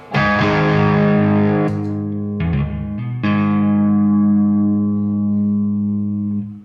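Sustained instrument notes swell through a room reverb with the modulation pushed up, their washy tails warbling and shimmering oddly as a few chords are struck.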